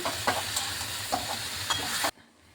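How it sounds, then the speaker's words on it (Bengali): Raw jackfruit with a little turmeric is stirred in a pan, a steady sizzling scrape with a few sharper knocks for about two seconds before it cuts off to near silence. "অল্প পরিমাণে একটু হলুদ দিয়ে দিলাম আমি বেশি হলুদ দিচ্ছি না যেহেতু এটা আমি ঈশ্বরের ঘন্ট বানাবো এত হলুদ কালারটা বেশি একটা ভালো লাগে না এই যে ভালোভাবে মিশিয়ে নিচ্ছি"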